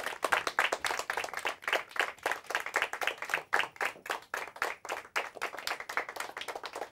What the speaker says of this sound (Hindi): हिंदी भाषा में जोरदार तालियां हो जाए